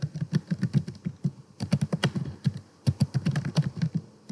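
Rapid typing on a computer keyboard, a steady run of close, crisp key clicks in quick bursts with brief pauses, heard on its own without talking.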